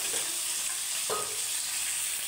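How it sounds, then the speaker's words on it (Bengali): Paneer cubes frying in oil in a pan, a soft continuous sizzle heard close up, with a couple of light stirring clicks and no talking. "দেখো পনিরগুলো আমি ভেজে তুলে নেব।"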